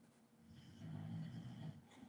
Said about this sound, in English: my dog's snoring loud.